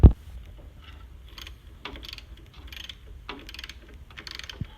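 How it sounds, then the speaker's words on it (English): A ratchet backing out 10 mm bolts that join the radiator to the condenser on a Chevy Trailblazer, with a loud clack at the start and then repeated bursts of fine clicking pawl action, close and clear. "is remove this bolt here and this bolt here. That's what's connecting your radiator to your condenser. 10 millimeter."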